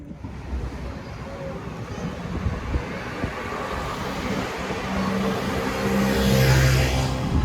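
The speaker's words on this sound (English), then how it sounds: "I'm in the car right now" Steady road and engine noise from inside a car driving through Amsterdam, a broad, continuous rumble that grows slightly louder toward the end.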